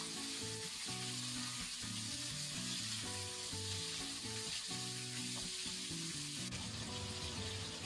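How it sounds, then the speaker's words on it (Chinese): Fatty pork slices fry in hot oil in a wok, a dense steady sizzle with occasional spatula scrapes and knocks, close and even throughout with no voices. "热锅凉油，先下入肥肉片煸香，炒出里边多余的油脂。"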